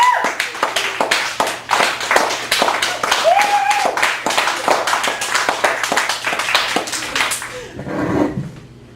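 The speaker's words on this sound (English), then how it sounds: "can get a lot of screams of applause too" Audience clapping and cheering at a poetry open mic in a Chicago cafe gallery, crisp close handclaps with whoops over about seven seconds before fading into quiet talk.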